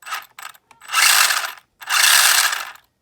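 Small electric drivetrain of an ECX Torment RC car with a brushless motor upgrade whirring in short bursts, two longer high-pitched gear whines after a few quick stuttering pulses, close by.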